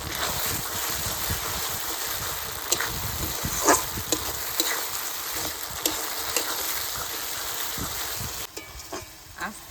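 Masala paste of dried red chillies and ground pepper sautéing in a pan over a slow wood fire, a steady close sizzle with occasional scraping stirs and soft clinks.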